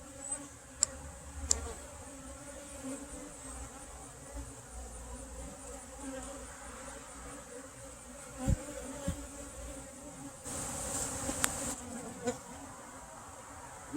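Honey bees buzz around an active, productive hive opened for inspection, a steady low drone that swells and fades as bees fly close to the microphone, with a few louder passes and soft handling clicks.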